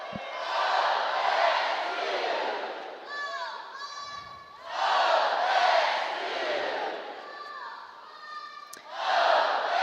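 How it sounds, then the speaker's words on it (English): A packed arena crowd at Gill Coliseum roars at an Oregon State gymnastics meet against Rutgers while standing for the fight song. The dense, loud crowd noise swells in waves, and brief tonal band or instrument notes rise over it. "Crowd is on their feet for the fight song."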